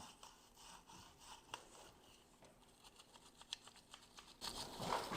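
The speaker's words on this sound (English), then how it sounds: "a little wire brush just to clean that up a little bit and make it look like new" A small wire brush scrubs a part on a 1973 VW Squareback Type 3, giving faint, quick rasping strokes in an uneven rhythm that grow louder and denser toward the end.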